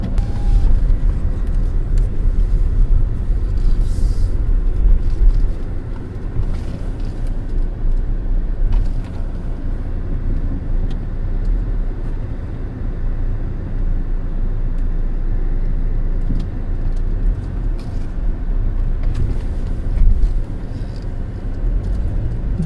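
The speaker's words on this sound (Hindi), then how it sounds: "आपको देखिए कितना आराम से ये गाड़ी चढ़ेगी और आराम से उतरेगी" Jeep Compass 2.0 diesel 4x4 Longitude rolling slowly up and over a road divider, a steady low engine and tyre rumble throughout with a few heavier thumps near the start and end.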